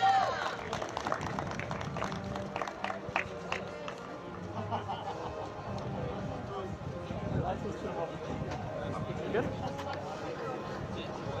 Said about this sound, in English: Let us give a round of applause to Hanna Winkele, Austria.